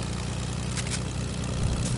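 A propeller airplane engine in a multiplayer video game drones steadily with a low, continuous hum, a close, even tone that holds for the full stretch without talk.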